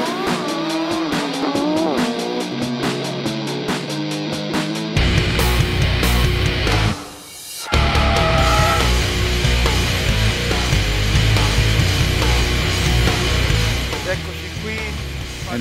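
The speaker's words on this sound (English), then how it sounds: "And here we are to do a lap of the Balocco test track. In this new Alfa Romeo 4C" An Alfa Romeo 4C sports car laps the Balocco test track, its engine droning and rising through the gears under steady interior road noise, with a brief dip mid-lap, someone talking over parts of it.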